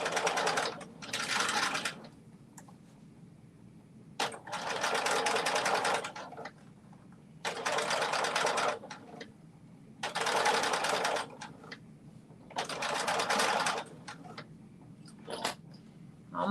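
Sewing machine stitching along the seam where a bodice joins a skirt, running in five or six loud bursts of steady rapid clatter separated by short pauses, close and with no voices.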